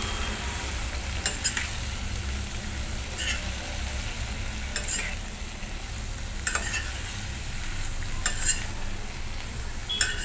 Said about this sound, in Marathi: आता आपण त्यात वालपापडी घालून घेतली आणि छान वालपापडी परतवून घ्यायची